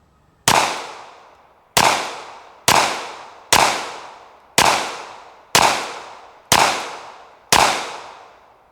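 Eight sharp, close pistol shots from a Bodyguard 2.0 fitted with a laser, fired one at a time at an even pace with short decaying echoes and no talk.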